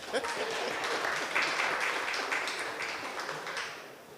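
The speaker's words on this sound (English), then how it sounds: "I had paused for applause." Steady applause from a town hall meeting crowd on the island of Nevis, a dense patter of claps that swells slightly and then fades toward the end.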